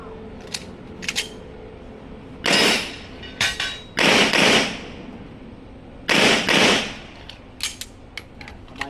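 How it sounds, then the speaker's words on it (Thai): Pistol shots on an IDPA practical shooting course, a few sharp reports in quick pairs standing out over lighter clicks and taps, close and loud, with no talking. "พอยิงนัดสองเสร็จมันก็จะขึ้นไป ปั้ง นี่คือนัดที่สอง"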